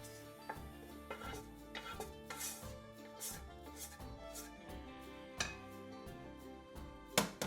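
Cooked rice returned to its original pan, heard as repeated light clinks and scrapes of a utensil against cookware over a steady low background, with occasional sharper knocks and no talking.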